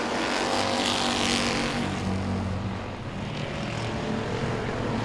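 Stock cars racing at Langley Speedway in a Super Streets event, a loud sustained engine roar from cars passing close, swelling early then easing slightly and holding steady.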